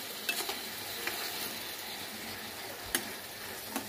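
Marinated fish goes into a hot pan and sizzles in a steady, close frying hiss, with a few light clicks and scrapes of utensils on the pan.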